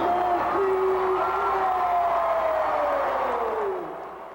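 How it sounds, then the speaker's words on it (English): A large wrestling crowd at Oklahoma City's Myriad Center roars and cheers in a sustained, even wash of noise that holds steady, then begins to fade toward the end. "You could hear that tremendous crowd noise and a great crowd on hand at Oklahoma City's Myriad Center."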